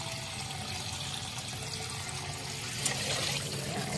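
Murky tap water runs from a faucet in Manila as a steady, close hiss and splash. A slight surge near the end breaks the otherwise constant flow, and no voices can be heard over it.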